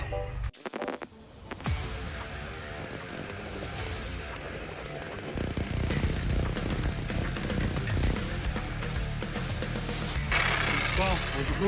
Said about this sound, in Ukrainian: А друга посадка вона якраз для відбійного молотка для важких ґрунтів